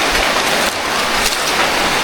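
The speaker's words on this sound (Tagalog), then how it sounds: "lumakas na yung ulan" Heavy rain falls loudly and close by, a thick unbroken wash of drops pattering on surfaces with no voices over it.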